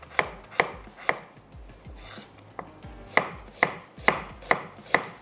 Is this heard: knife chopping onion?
yes